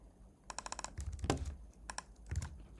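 Nearby typing on a computer keyboard: quick bursts of light key clicks in short runs with brief pauses, fairly quiet and alone with no voices.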